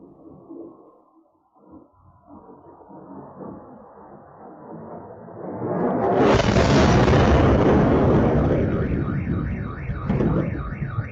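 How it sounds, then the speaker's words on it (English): A drone strike explosion at the Tuapse oil port in Russia, heard from a distance: low rumbling builds, then a loud, sustained roaring blast, followed by car alarms wailing in a repeating rise-and-fall pattern. "The delay, I think, with the sound is just the distance from the explosion."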